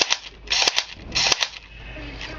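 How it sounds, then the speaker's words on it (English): An electric full-auto blowback toy Glock pistol fires two short rapid bursts of sharp plastic clacks, close and loud, followed by a fading mechanical whir. "It shoots about 180 FPS or something. Really good. It's electric and full auto, so it's blowback too."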